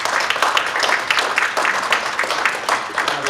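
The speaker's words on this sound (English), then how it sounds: "I think he deserves a round of applause" An audience at a governor's community meeting in Parkersburg claps in distinct, uneven bursts, a modest round of applause that stays fairly close and continues for a few seconds.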